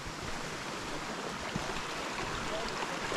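Creek water rushes steadily along a mountain hiking trail at Philmont, a continuous broadband flowing wash that stays close and fairly loud for the whole stretch, with no voices.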